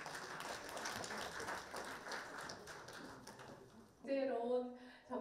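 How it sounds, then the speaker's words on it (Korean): Applause from an audience at a Korean award ceremony, a steady patter of many hands for about four seconds, then a voice speaking over fading claps. "큰 박수로 모시겠습니다."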